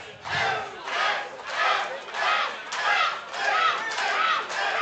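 A large wrestling crowd at the Barrett Brown vs Exodus Prime match roars in loud, rhythmic surges, swelling and dipping roughly every second like a chant, with no commentary over it.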